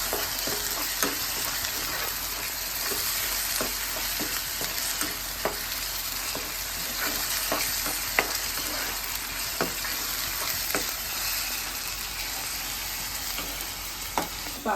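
Ginger garlic paste with coriander seeds and cumin fries in hot oil for a mushroom curry, a steady loud sizzle broken by repeated scrapes and clicks of stirring.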